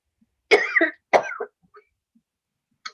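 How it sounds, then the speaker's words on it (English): Two close, harsh coughs in quick succession, each with a raspy tail, followed by quiet with a faint click near the end. "I was coughing."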